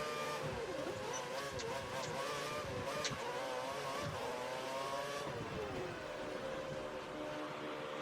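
A Formula 1 racing car engine in the F1 2013 video game holds a high whining rev near its limiter, a steady buzzing drone with slight pitch wavers that drops lower toward the end.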